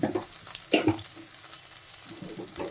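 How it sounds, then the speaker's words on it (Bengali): Chaltar dal is stirred and fried with salt in a pan, a soft sizzle running under scraping spoon strokes, with a louder stir about a third of the way in, close and without talking. "দিয়ে খুব ভালো করে এটা কষে নিই"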